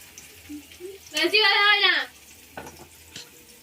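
Pointed gourd fries in oil on a gas stove, a soft sizzle running low beneath a voice, with one louder vocal burst in the middle.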